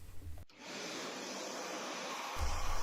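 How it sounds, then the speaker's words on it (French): A vacuum cleaner switches on after a click and runs with a steady whooshing drone, cleaning up chips after milling on a Genmitsu 4040-PRO CNC router. It is fairly quiet and close, with a lower rumble returning near the end. "Dernier coup d'aspirateur et on va regarder ce que ça donne."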